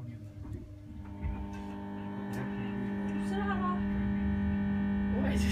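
Class 322 electric train traction motors whine steadily, the tonal hum rising gently in pitch as the 18:31 service to Leeds pulls away, with a continuous low rumble beneath.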